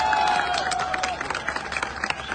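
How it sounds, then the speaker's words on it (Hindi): An audience claps at an event in Chandigarh, Punjab: a short burst of dense, crackling applause that thins into scattered claps, with a faint steady tone running underneath. "अरे ताली बजा दो, बहुत मेहनत करके बनाया है।"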